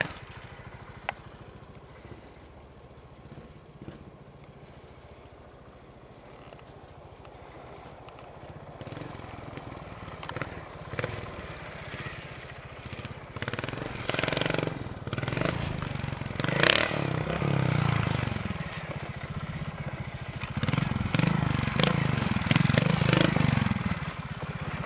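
A trials motorcycle on Maui idles and then revs harder, its engine growing steadily louder and rougher over the stretch, with rising throttle bursts toward the end and no talk.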